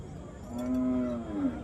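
A buffalo at a cattle market near Kamtha, Nanded, lets out one long, loud, drawn-out low moo that rises and then falls, with no talk over it.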